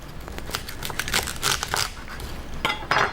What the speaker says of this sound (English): you're gonna go ahead and snap that end off to see where the woody part is